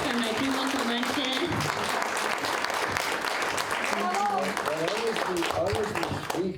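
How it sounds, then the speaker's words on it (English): Dense applause from an audience at a community storytelling event, steady and close throughout the clip, with voices talking and calling out over it. "Everybody give a round of applause for my prima Comanche."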